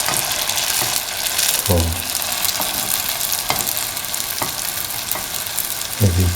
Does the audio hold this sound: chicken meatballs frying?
yes